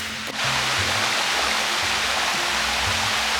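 A forest waterfall roars as a constant broadband rush of falling water, loud and steady after a brief soft start, with no voices heard.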